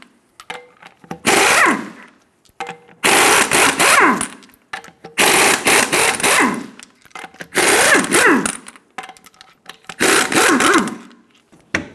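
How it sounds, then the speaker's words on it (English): An impact wrench zips off the wheel lug nuts of a 2000-2006 Toyota Tundra with a 21mm socket, in five loud, close bursts of about a second each separated by short pauses, with no talking. "remove the lug nuts."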